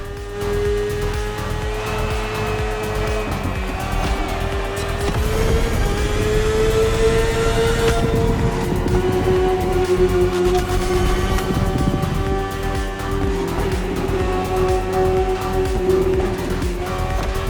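A BMW S1000RR superbike ridden in the racing game The Crew Motorfest, its engine whining loud and steady with rising and falling pitch as gears change, continuous throughout with no voices.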